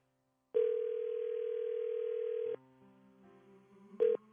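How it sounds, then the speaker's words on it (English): A steady telephone dial tone sounds loud and close for about two seconds, followed by a quieter tone pattern and a brief final beep while a number is being called. "Will you dial that number for me?"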